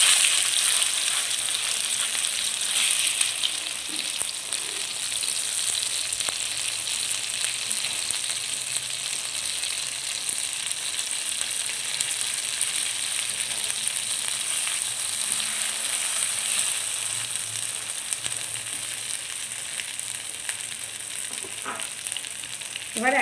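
Green pea paste fries in white oil in a wok with a constant hissing sizzle, close and even, with a few faint stirring scrapes near the end.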